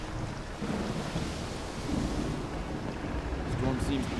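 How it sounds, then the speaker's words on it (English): A rumbling thunderstorm in the video game Deus Ex: Human Revolution, with continuous low thunder, rain and wind noise filling the background and a few faint tonal effects near the end. "The storm seems to be calming down."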